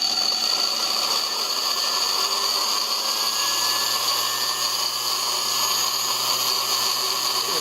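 A GM Holden wiper washer pump motor spins in a drag-race test, giving off a loud, steady, high-pitched electric whine that holds without a break from start to finish.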